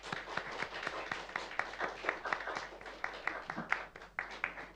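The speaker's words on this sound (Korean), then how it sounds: "이렇게 환영의 박수를 쳐주시기 원합니다" An audience at a tenth-anniversary church gathering claps in welcome, a sparse, fairly quiet patter of individual hand claps with uneven rhythm and light room noise underneath.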